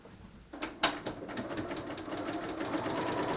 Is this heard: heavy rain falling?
no